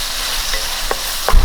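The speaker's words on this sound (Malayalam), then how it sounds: "ഇതിലേക്ക് പൊടികളെല്ലാം ഒന്ന് ചേർത്ത് കൊടുക്കാം" Spice powders being stirred into chicken roast frying in a pan, a steady close sizzle with a few short stirring scrapes toward the end.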